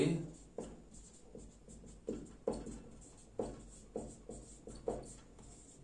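Writing on a board during a discrete mathematics lecture. Quick, rhythmic strokes scratch along, close and soft, roughly every half second in a quiet room.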